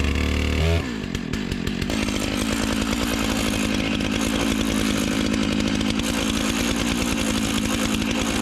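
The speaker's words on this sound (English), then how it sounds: "This is the Stihl MS661. You can see that's a Magnum chainsaw." A Stihl MS661 Magnum chainsaw with a long bar cuts maple on a Granberg Alaskan sawmill, its engine winding up from a brief idle into a loud, sustained, buzzing full-throttle roar, close by with no voices.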